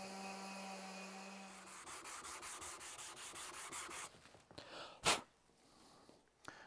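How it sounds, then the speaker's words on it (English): A random orbit sander with 120 grit sanding a copper inlay in wood whirs with a rough, steady rasping buzz after a brief tone, followed by a sharp burst and some quieter scraping. "I'm going to start with 120 grit now and work my way up to about 220 grit with the random orbit sander"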